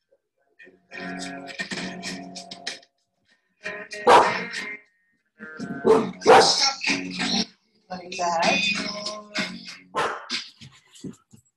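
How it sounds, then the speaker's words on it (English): A little dog barks in short bursts in the background of an indoor room, and a person speaks briefly. "got a little dog in the background"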